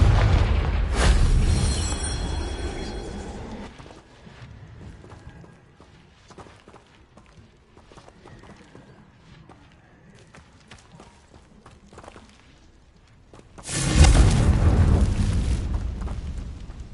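Confringo blasting spells in Hogwarts Legacy on PS5: one loud explosion booms and rumbles away, a stretch of quieter scuffling and movement follows, then a second heavy blast erupts and rolls on near the end.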